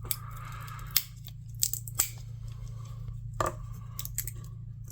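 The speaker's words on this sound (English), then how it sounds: "Stick this little screwdriver in here and pry it off there." A small screwdriver prying a chrome-finished plastic bolster off an old USA knife, heard as a few faint, sharp cracks and snaps over a low hum.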